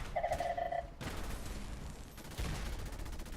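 An enemy scientist fires at the player in Fallout 4, with bursts of gunfire under dense game noise and a brief electronic tone at the start, with no talking.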